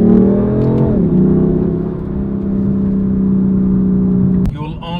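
A BMW M4 Competition engine revs loudly and close, rising then settling into a steady high-pitched drone before cutting off near the end.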